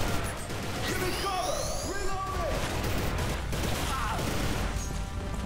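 Gunfire and crashing impacts sound in the video game Inversion, with repeated shots and whooshing effects at moderate loudness while a voice talks over the action.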